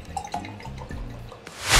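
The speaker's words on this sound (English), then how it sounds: "I'm gonna pour us some Moscato." Moscato wine pours into a glass with soft dripping and trickling liquid sounds, close by, ending in a brief louder splash or hiss, no talking.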